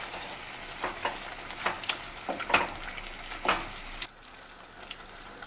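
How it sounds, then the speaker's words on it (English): Sauce is stirred into liver and onions frying in a pan, with soft crackling sizzle and repeated scraping strokes of the utensil, close up, easing off near the end. "So I'm adding the sauce. So I'm gonna stir it together."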